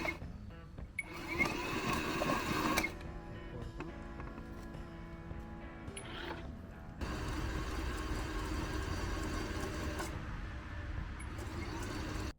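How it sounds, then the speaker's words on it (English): Gas-powered auger biting into compact soil to dig holes for tree planting, a steady engine drone with rumbling that shifts and grows heavier as the bit digs in, continuing throughout. "it took both of us holding on to either side of the auger to get it to bite into the soil"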